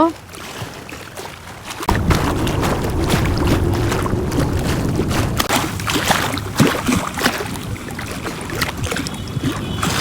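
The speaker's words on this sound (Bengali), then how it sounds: "প্রচন্ড পরিমাণে নদীতে ঢেউ ছিল সাথে সাথে বাতাসের শব্দ" Strong waves on a river at Charbaria, Barishal, with wind buffeting: a broad, continuous rushing roar of water and gusts that swells after a quieter opening, loud and close.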